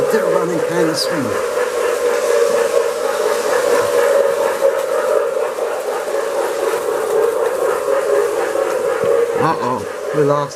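A postwar model steam train runs on a carpet with a continuous whistle tone and a steady hiss and rumble, while someone talks over it.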